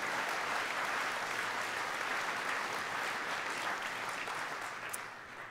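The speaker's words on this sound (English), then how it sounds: "So please give a round of applause to Conwy County Borough Council for the fantastic events." Sustained applause from a crowd at a sports awards ceremony, steady dense clapping that fades slightly at the end.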